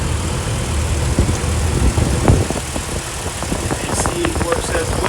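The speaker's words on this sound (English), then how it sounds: "engine works perfectly." Jeep Wrangler Unlimited Rubicon with its inline-six engine idling, a steady low rumble close by with scattered knocks and rustles over it.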